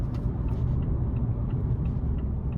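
Steady low engine rumble and road noise from a 2021 Mazda CX-9 Touring Premium with the 2.5-litre turbo four and 6-speed automatic, heard from inside the cabin while driving, with no distinct change that marks a shift.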